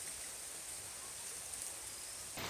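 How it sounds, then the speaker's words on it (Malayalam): Steady rain pours beside a river during monsoon fishing, a dense even hiss that holds at constant loudness with no voices, ending in a slight shift near the close. "ഇപ്പോഴേ നല്ല മഴയാണ്."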